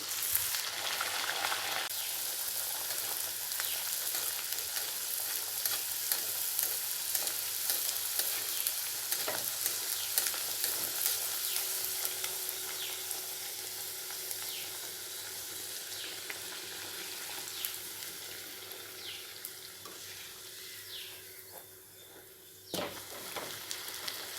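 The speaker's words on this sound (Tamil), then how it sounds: "எண்ணெய் காஞ்சிடுச்சு. நம்ம இப்போ தேய்ச்சி வச்சுருக்கதை போட்டுடலாம்." Masala potato pooris fry in hot oil with a steady, close crackling sizzle that carries on without pause, dense bubbling hiss fading slightly toward the end, with occasional stirring clicks and no talking.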